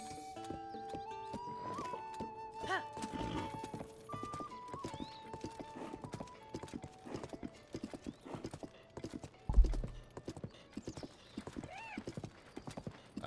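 Horse hooves clip-clopping in the video game Zelda Tears of the Kingdom, a fast rhythmic gallop over game music with a whinny near the end and a brief voice.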